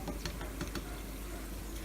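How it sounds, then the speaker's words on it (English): Beets simmering in a pot on a kitchen stove, a steady bubbling hiss with a few soft pops and patters, continuous and close, with no voices. "So, turn these guys down and they're just going to simmer."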